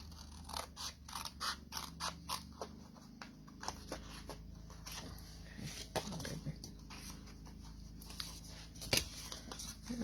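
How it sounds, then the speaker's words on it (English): Scissors cutting through card for a Christmas box craft, a run of close, crisp snips and scratchy slices with small pauses, one sharper snip near the end, over a low background hum. "So I'm just going to cut this one as well. I'm going to cut down there."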